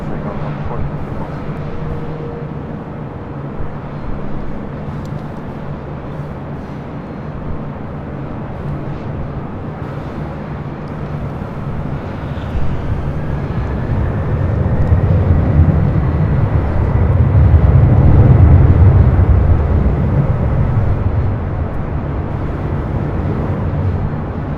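Airliner taking off from runway 24 right at LAX, a distant jet roar swelling gradually into a louder broad rumble over about twenty seconds before easing slightly.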